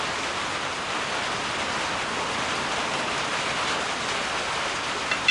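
Steady, dense hiss of rain falling without a break, fairly close and even in loudness throughout.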